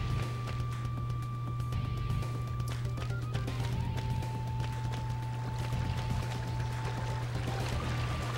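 Flowing water in the video game Mana Khemia, a steady soft running trickle beneath a constant low hum and sustained tones of game music.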